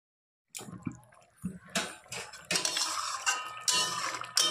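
Metal clatter and scraping as a lid goes onto a pan of pointed gourd over a gas stove on medium heat, several close knocks and rattles after a moment of silence, no voices.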